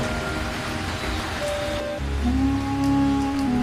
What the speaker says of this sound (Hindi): तेज बारिश, आंधी और बिजली की चमक ने सब कुछ हिला दिया।